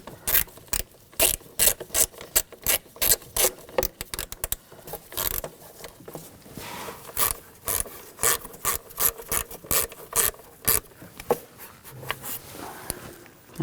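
Ratchet tightening the spark plugs on a 2000-2006 BMW X5 3.0L inline-six, a long run of close, crisp clicking bursts in quick repeated strokes with short pauses between them.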